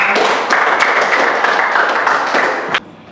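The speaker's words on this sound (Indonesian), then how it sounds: "tepuk tangan buat kita semua" Classroom applause from a group of students, a steady dense patter of many hands clapping loudly for nearly three seconds before stopping abruptly.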